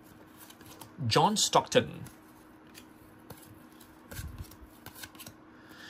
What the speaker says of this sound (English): this pack is hard to rip